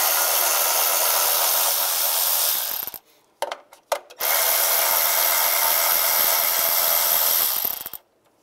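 A power tool with a 10 millimeter socket removes bolts from a plate on a 2007-2013 Chevrolet Silverado 1500, a loud steady whirring run, a short pause with clicks, then another long run.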